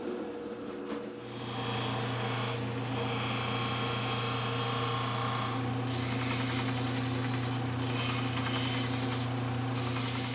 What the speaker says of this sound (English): I'm going to cut it out on the bandsaw